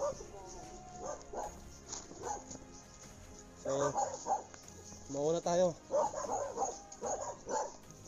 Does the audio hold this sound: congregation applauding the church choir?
no